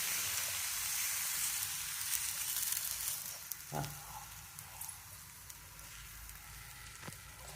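A rice masala roti sizzles on a hot pan, a steady close crackling hiss with a few sharp pops and scrapes, no talking.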